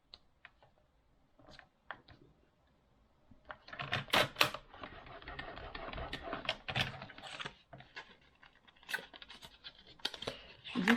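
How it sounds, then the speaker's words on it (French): Thick paper is pressed and creased along a fold for a mini album craft, giving a string of dry scraping and crackling rubs, sparse at first and then denser and louder. "Je vais réessayer de marquer mon pli parce que il est vraiment tellement épais ce papier"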